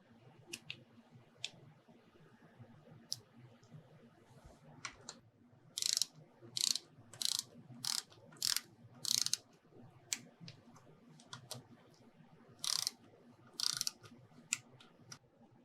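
Fasteners on a Harley-Davidson bolt-on air cleaner are tightened by hand, giving a series of close, sharp ratcheting clicks in short bursts with pauses between, alone in a quiet room.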